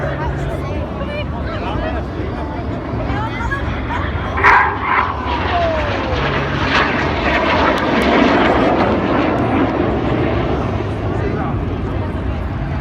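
Red Arrows jets from the synchro pair roar through a crossing manoeuvre at an air display, a loud sustained engine rumble and whoosh that swells midway, with dogs barking and people talking nearby.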